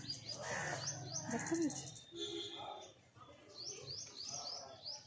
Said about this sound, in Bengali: দেখো চড়াই পাখিগুলো পালালো, সব চড়াই পাখি ছিল